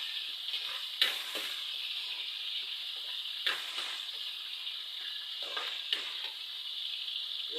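Shrimp sizzle steadily in a hot pan while ampalaya is being cooked, with a few sharper bursts of spitting and stirring clatter over the continuous frying hiss, fairly close and with no talking.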